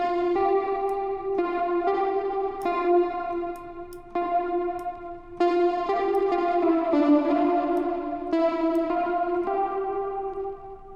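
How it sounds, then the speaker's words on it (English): A Baby Audio BA-1 retro analog synth plays a pulse width modulation wave from its first oscillator, with a bright buzzy tone that sounds a steady run of sustained notes and shifting pitches, up close with echo and chorus effects. "Oscillator 1 is going to give you a PWM wave, or a pulse width modulation wave"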